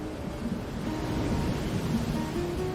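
Ocean surf washes steadily against the shore in a soft, continuous rush, with a faint breeze blending into the noise and no distinct individual wave crashes.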